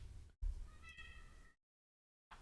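A real cat lets out a drawn-out meow, close and clear, between short gaps of silence.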